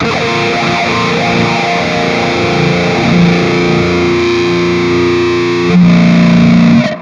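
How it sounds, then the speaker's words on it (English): Distorted electric guitar through a Mooer phaser effect plays sustained chords with a swirling, sweeping sound, steady and loud throughout, swelling slightly near the end. "And we're going to use a phaser."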